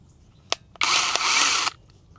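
DeWalt battery-powered saw for cutting firewood gives a short tap and then a single buzzing whir of about a second, close by and otherwise quiet.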